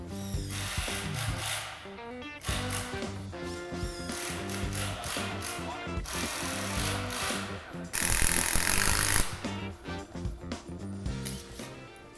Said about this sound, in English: Join parts with 5x90 screws using a level and a drill.